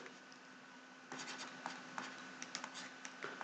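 Marker or chalk writing on a board during a least squares lecture, a scratchy rubbing with short taps and strokes, close and moderately quiet, with no talking.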